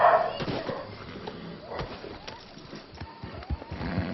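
Wild dogs bark and yip in the distance in an outdoor setting with horses nearby, several short scattered calls rising over a low background.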